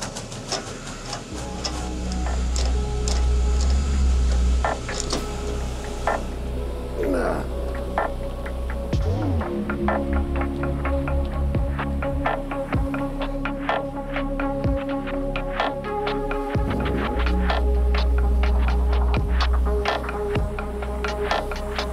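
An IMAX film projector runs after threading, giving a loud, steady mechanical whir with dense rapid clicking and ticking that carries on throughout and shifts in pitch toward a stop, with a voice speaking over it at times.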